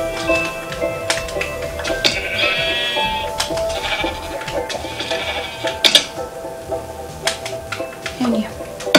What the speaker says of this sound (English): There's 2 sheep up here.